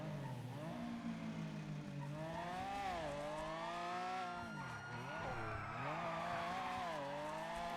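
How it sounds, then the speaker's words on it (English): Supercar engine revving in NoPixel GTA, a steady, fairly faint engine tone that rises and dips in pitch as the throttle changes, heard alone. "I know it's a supercar engine"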